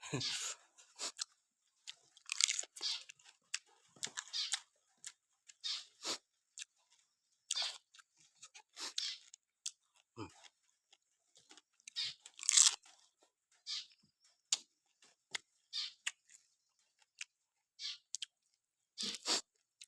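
Crunchy food is chewed at lunch alongside spicy papaya salad, with sharp, close, irregular bites and crunches separated by quiet pauses, and occasional voices in between.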